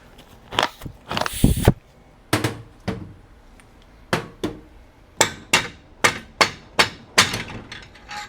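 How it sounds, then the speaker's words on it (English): A dead-blow hammer with plastic and rubber faces strikes repeatedly during engine building, with dull, solid knocks, first scattered, then in a quicker run of evenly spaced blows near the end. "That's the hammer you need. Plastic on one end, rubber on the other."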